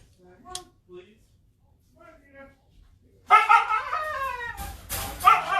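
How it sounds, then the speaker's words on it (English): Dogs bark indoors, a few faint yips early on, then louder, overlapping barking and whining burst in near the end. "Sorry for the dogs barking."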